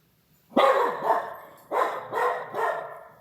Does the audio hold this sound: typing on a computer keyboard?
no